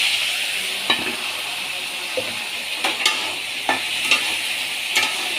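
A paste of turmeric, cumin and chili powder mixed with water fries in a pan with a steady sizzle, while a spatula stirs it in repeated scraping strokes about once a second.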